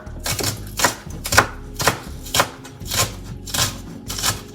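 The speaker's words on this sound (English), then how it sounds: "I'm gonna chop up some things. Grate some things. So these are just the onion." An onion is chopped with a knife on a board in a home kitchen, making about nine sharp, evenly spaced chops at a steady rhythm, close and fairly loud, with no talking.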